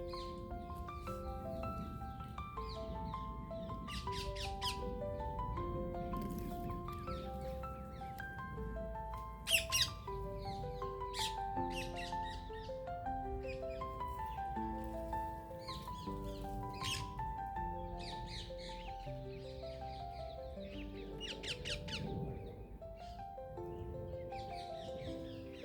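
Green parrots squawk outdoors in a countryside spot in the UK, with short, harsh calls scattered every few seconds. Quiet, steady melodic tones run underneath throughout.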